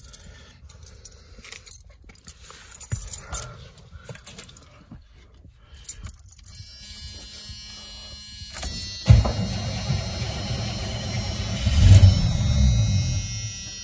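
A cold car engine fitted with a Quadrajet carburetor cranks and catches, then settles into a rough, steady idle that swells louder near the end, preceded by quiet handling noises.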